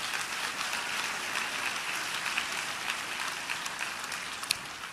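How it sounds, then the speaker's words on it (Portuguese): Applause fills a church during a sermon, a dense continuous clapping from many hands lasting the whole moment at steady volume. "Aplauda o Senhor, pode aplaudir."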